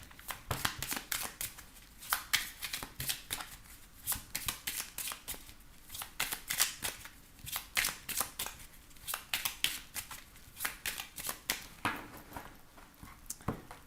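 Tarot cards being shuffled, a long stretch of close, crisp riffling and slapping in rapid bursts that repeat with brief gaps, heard alone without talk.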